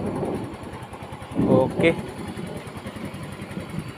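A Yamaha Mio motorcycle engine runs steadily after wiring troubleshooting, a rapid idling putter heard close, with someone talking briefly over it partway through.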